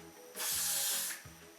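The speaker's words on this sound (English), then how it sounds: "I'm just gonna spray some Got To Be here because I like it to stay a bit more in the back" One close, loud hiss of Got To Be hair spray lasting under a second, bracketed by soft clicks of the can's nozzle.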